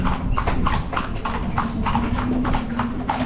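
A horse pulls a calesa carriage through the streets of Intramuros, Manila, its hooves clip-clopping in a steady, close rhythm over a constant low rumble of wheels and traffic.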